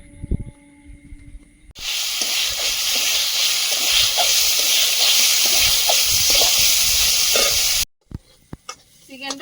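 Chicken sizzles and fries loudly in a pan over a village-style cooking fire, a steady dense hiss broken by crackles and occasional stirring scrapes, starting abruptly and cutting off near the end.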